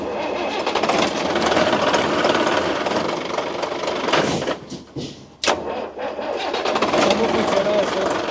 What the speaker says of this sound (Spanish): Es un motor diésel. Trabaja con ACPM. Pues es el motor de este es el motor de un bus